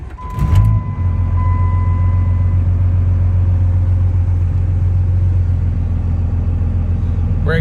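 A 1998.5 Dodge Cummins 24-valve diesel truck cranks briefly and catches, then settles into a loud, steady, deep rumbling idle up close on a 105-degree Texas day.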